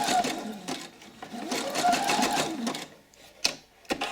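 Sewing machine stitching leftover yarn into a decorative bowl, with bursts of rapid mechanical whirring broken by short pauses and a couple of sharp clicks as the work is repositioned, heard up close.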